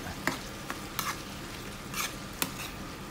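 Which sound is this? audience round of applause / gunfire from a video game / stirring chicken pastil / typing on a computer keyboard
stirring chicken pastil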